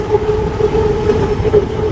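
Electric skytrain rolling past in Bangkok's Siam area, a steady rumbling hum with a faint tonal whine running for the whole stretch, no one speaking.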